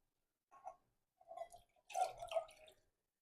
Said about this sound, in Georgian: ეხლა ჩავასხავ წყალს